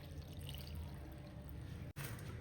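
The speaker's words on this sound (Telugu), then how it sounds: "ఇప్పుడు ఈ క్యాబేజీ ఉడకడానికి ఒక గ్లాసు వాటర్ వేసుకుందాం" A glass of water poured onto cabbage and chana dal in a cooking pot makes a quiet, continuous splashing stream that breaks off briefly near the end.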